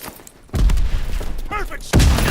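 Battle sounds in the Call of Duty: WWII game, with heavy booming blasts and gunfire rumbling loudly, a sharp explosive impact near the end, and a brief in-game voice in the middle.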